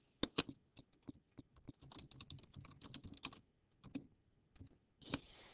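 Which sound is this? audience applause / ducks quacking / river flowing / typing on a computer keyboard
typing on a computer keyboard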